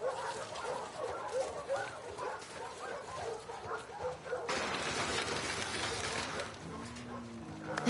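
In the video game The Last of Us Part 2, a dog yips, barks and whimpers excitedly at close range, mixed with soft movement sounds and some human voices.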